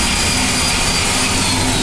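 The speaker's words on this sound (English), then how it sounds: "just the fact that it's on a motorized die grinder gives it a lot more power and a lot more aggressiveness in the ice" A motorized die grinder carving an ice sculpture makes a continuous, loud whirring roar that holds steady throughout with no breaks. No voices are heard.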